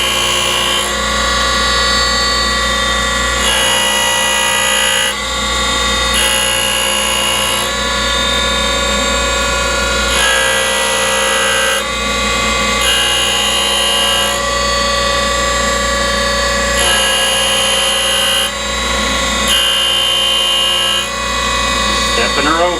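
A Boyar Schultz Challenger Deluxe 2A surface grinder runs steadily with a loud constant motor hum and high whine, broken by repeated rhythmic pulses as the table strokes back and forth.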